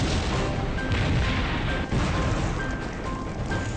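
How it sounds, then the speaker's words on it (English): Smaller explosions from a burning oil tanker fire at night: a dense, continuous roar of booming blasts and crashing rumble, loud and close throughout, with a brief dip in the middle. "Smaller explosions repeat throughout the night."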